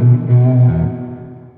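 Electric guitar notes bathed in heavy, splashy spring reverb, a few chords ringing out and then trailing off into a long, washy decay.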